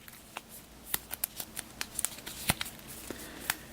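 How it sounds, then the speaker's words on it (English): Playing cards being shuffled by hand during a tabletop board game, a quick run of crisp riffling clicks and snaps in an irregular burst, close and fairly quiet. "Give this one more quick shuffle."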